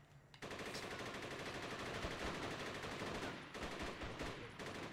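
Sustained automatic gunfire in the video game Rise to Honor, a dense, loud, continuous rattle of rapid shots with a short break near the end before firing resumes.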